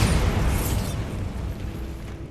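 A single Bombarda blasting-spell explosion in Hogwarts Legacy, a loud broadband boom right at the start that rumbles and slowly decays over a couple of seconds, with no voices.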